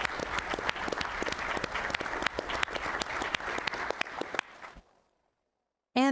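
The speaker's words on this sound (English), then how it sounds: "So big round of applause." A crowd at an annual meeting closing ceremony applauds steadily and loudly for several seconds, the clapping fading out into silence before a voice begins.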